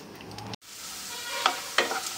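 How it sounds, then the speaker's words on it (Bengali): Potatoes fry with black cumin in a kadai, a close, steady sizzle broken by a brief cut-out and two sharp stirring scrapes near the end. "তো আমি আলুটা ঠিক এমন লাল লাল করে ভেজে নিয়েছি।"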